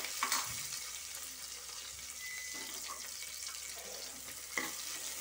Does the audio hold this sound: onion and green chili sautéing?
yes